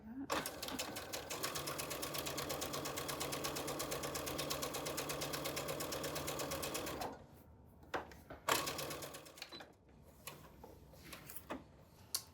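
A home sewing machine stitches an elastic channel on a kids' costume, whirring in a steady, fast mechanical rhythm for several seconds before stopping, followed by a few quiet clicks and handling sounds.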